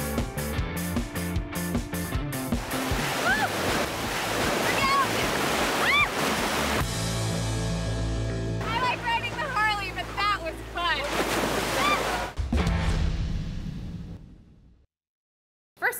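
Ocean waves rolling onto a beach, a loud continuous wash of surf with wind buffeting the microphone, then a sudden drop to near silence at the end.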